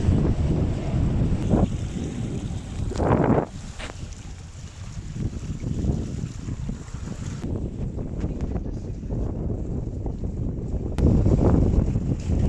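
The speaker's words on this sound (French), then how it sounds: "Ah, il y a 20 nœuds d'air." Strong wind of about 20 knots buffets a sailboat under way, roaring steadily across the microphone with gusty swells, water rushing along the hull and faint voices underneath.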